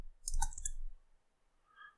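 A computer mouse clicks once during spreadsheet work, a crisp, close tap followed by a faint second tick, with no voice.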